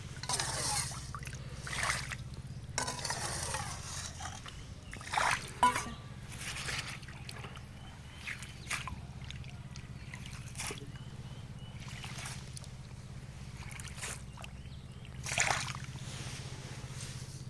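Muddy water is bailed out by hand in a village, giving quiet, irregular splashes and trickles that come and go in separate scoops over low background noise.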